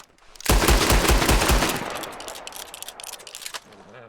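Rapid burst of Cattleman revolver gunshots in a video game, about five loud sharp cracks in quick rhythm followed by a fading echoing tail.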